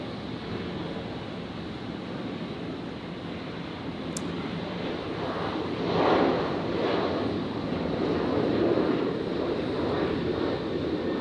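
A Qantas jet rotates and lifts off from runway 01 right at Brisbane Airport at night, a broad rushing roar that swells midway and stays loud, mixed with some wind noise.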